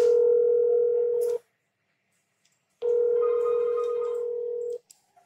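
Steady dial tone from a Grandstream hotel telephone, loud and continuous for over a second, then a silence, then the tone returns for about two seconds before cutting off with faint clicks.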